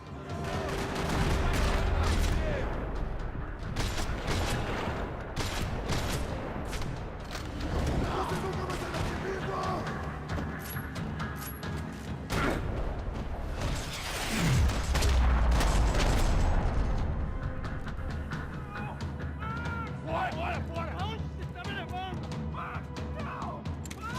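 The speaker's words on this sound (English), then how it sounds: "Another parking lot rattling with gunfire." Sustained bursts of rapid gunfire from the video game Max Payne 3 crackle and rattle in a parking lot over a dense, loud backdrop, with booms and scattered shots continuing throughout.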